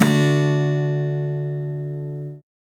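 A single beginner's guitar chord is strummed once and left to ring, its tone close and clear as it slowly fades before being damped after about two and a half seconds.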